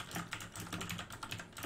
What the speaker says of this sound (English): You guys are typing essays, dude.